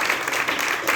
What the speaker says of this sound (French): Ça mérite vos applaudissements.